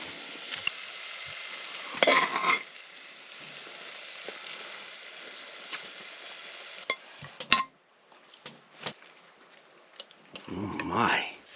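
Egg and meat frying in a pan on a winter tent overnight in heavy snow, a soft steady sizzle with brief utensil clinks and scraping bursts, close by.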